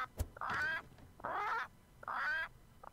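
A parrot in Return to Monkey Island squawks in three harsh, drawn-out calls at a steady pace, loud and close, with short pauses between them.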